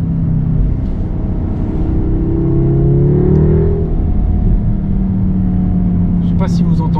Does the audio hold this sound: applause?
no